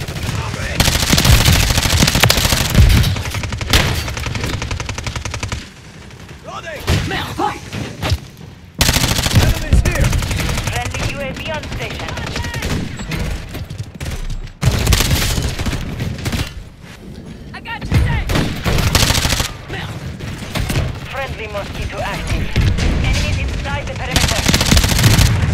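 Automatic gunfire in a Call of Duty hardpoint match, long loud bursts of rapid shots broken by short pauses, with someone talking over parts of it.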